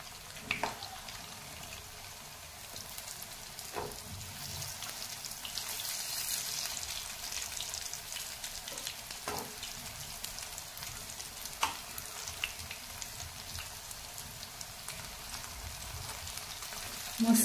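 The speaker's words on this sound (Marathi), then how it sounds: "आता या कोबीच्या वड्या आपल्याला छान गोल्डन कलरवर फ्राय करून घ्यायच्या" Cabbage vadi slices coated with sesame seeds fry in oil until golden, giving a quiet, steady sizzle with occasional soft pops and faint spatula clicks throughout.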